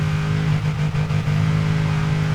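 Engine of an old Ford Mustang in Forza Horizon 3, a loud steady V8 drone held near constant, with a slight dip and recovery partway through, no talking over it.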